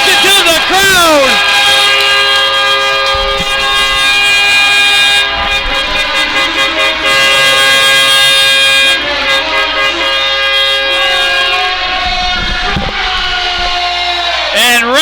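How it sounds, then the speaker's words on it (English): After a hockey game win, the arena crowd roars and blasts air horns in long, loud, sustained tones that go on and on with shifting pitch, while an announcer talks over the din. "Listen to the crowd."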